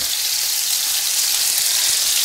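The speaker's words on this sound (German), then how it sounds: "Ja, das geben wir jetzt mal hinein und dann rundherum schön anbraten." Pieces of chicken breast sizzle steadily in a hot pan, a loud continuous frying hiss up close with no talking.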